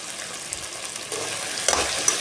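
Potatoes stirred and sautéed in a pan for potato masala after the tomatoes have softened, giving a steady soft sizzle with a few light scraping stirs, close and alone.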